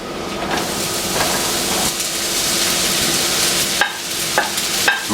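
Mushrooms hit hot olive oil in a pan, giving a loud continuous sizzle with scraping and clattering as they are stirred and tossed, a few sharp knocks near the end.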